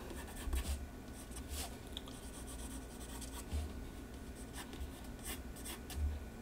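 Pencil scratching and scribbling across paper while redrawing a hand, close and fairly quiet, with short rubbing strokes and a few faint taps or page movements, no talking.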